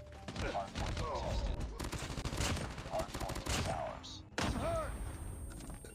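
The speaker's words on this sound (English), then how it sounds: "This gun is so bad for hip fire." Hip-fired Type 25 assault rifle in Call of Duty Mobile, heard as rapid bursts of close, loud gunfire that repeat through the whole stretch amid busy game sounds.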